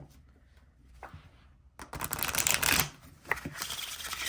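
Linen-finish astrology card deck being shuffled by hand, a quiet start with faint card taps, then a loud riffling burst of cards close to the microphone, followed by a few lighter snaps.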